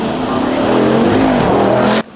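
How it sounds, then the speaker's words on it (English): A Bugatti Bolide hypercar accelerating hard, its loud exhaust roaring with rising engine pitch for about two seconds before cutting off abruptly, close and dominant. "Well, the Bolide definitely sounds louder."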